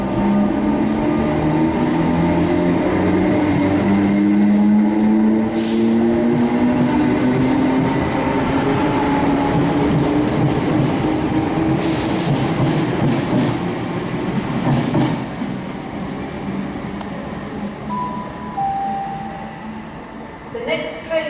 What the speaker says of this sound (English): arriving now is the 12:36 CrossCountry service from Manchester Piccadilly to Bournemouth